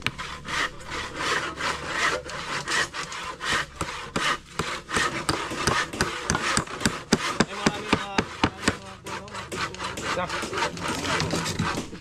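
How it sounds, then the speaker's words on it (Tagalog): A hand saw cuts steadily through wood at a rest house construction site in rapid, rhythmic rasping strokes that continue for a long stretch, close and fairly loud. "Grabe yung lagari."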